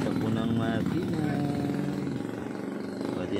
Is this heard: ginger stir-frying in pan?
no